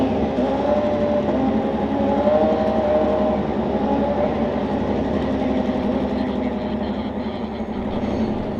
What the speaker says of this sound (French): c'est une Moto 2 en fait, mais qui sont en train de chauffer.